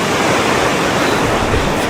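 A strong river current rushing during a river rescue, a loud, dense, unbroken roar of churning water filling the whole clip with no voices.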